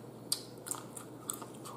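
Someone eats brown stewed chicken with seasoned rice and sweet corn, soft close chewing with a few crisp crunching bites spaced out, quiet and unaccompanied by talk.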